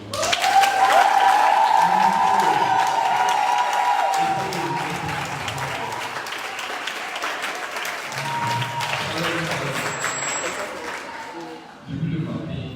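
A church congregation applauds and cheers loudly for God, a dense, sustained wall of clapping that dips slightly midway and then carries on, with voices mixed into the crowd.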